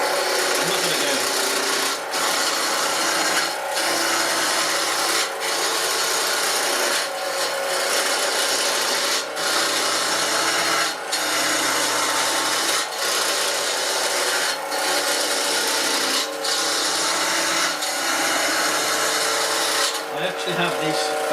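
A lathe tool cuts a spinning walnut pen blank, giving a continuous loud rasping scrape with regular brief dips as the cut pauses, and a faint voice here and there.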